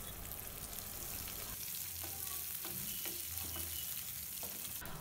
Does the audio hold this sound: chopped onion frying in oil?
yes